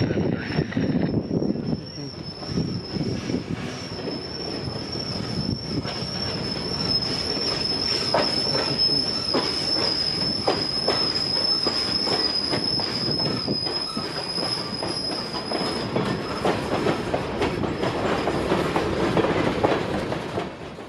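A freight train rolls past at close range in central Florida, its wheels squealing in a sustained high-pitched whine over a loud, continuous rumble and clatter of cars that lasts throughout.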